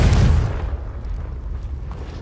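A Confringo fire spell bursts in Hogwarts Legacy with a heavy, booming explosion up front that fades into a low rumbling tail.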